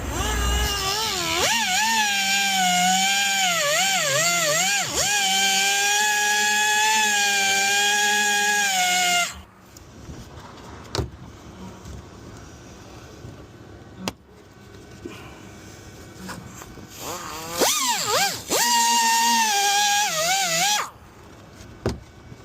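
A power tool cuts metal on a car while fitting a rear central jack point, a loud sustained whine with wavering pitch for several seconds, then quieter clanks and handling noise before another loud burst of cutting, close up.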